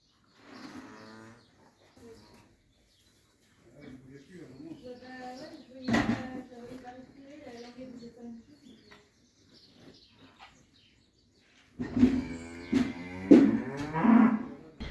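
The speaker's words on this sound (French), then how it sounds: "On vient déplacer les vaches." Cattle moo in several long, loud calls while being driven across a road to a field, with people talking nearby and birds chirping in the background.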